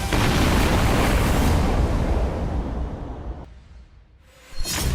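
A sustained, loud roaring blast from missile attacks rumbles through war footage, then fades into a quieter lull before a sharp new burst near the end.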